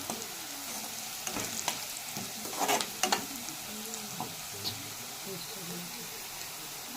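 Onions with turmeric stirred in a sizzling frying pan, steady frying hiss with scraping spoon strokes throughout, a voice talking quietly underneath.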